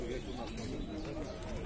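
King pigeons coo at a bird fair in Odesa, a low burbling murmur running throughout under busy crowd noise and nearby conversation.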